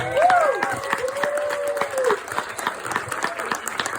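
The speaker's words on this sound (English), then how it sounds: "give me a round of applause for Megan and Josh" Wedding guests applaud the couple Megan and Josh, a lively burst of clapping with cheering and a whoop, loudest at first and then settling into looser scattered claps.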